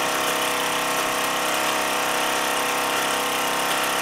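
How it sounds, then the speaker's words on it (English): A Mamod SE2A model steam engine drives Meccano blacksmith bellows through a stage of pulleys, giving a steady, dense whirring hiss with a faint mechanical hum that runs without a break and without voices. "The engine seems to be picking up a bit now."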